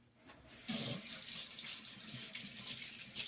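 Tap water runs into a bathroom sink while a face is rinsed, starting after a short silence and then streaming steadily and close, with a bright hiss and light splashes.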